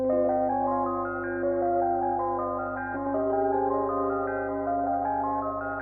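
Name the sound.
Rhodes electric piano chords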